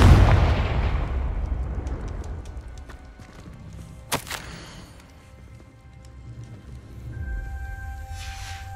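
A Confringo fire spell explodes in Hogwarts Legacy, a single sharp blast rising from a low, rumbling game soundscape, with soft tonal ambience afterward.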